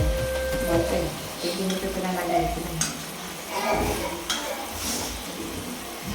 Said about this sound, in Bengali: হেলেঞ্চা শাকটা দিয়ে এখন নাড়াচাড়া দিয়ে আমি রেখে দেবো।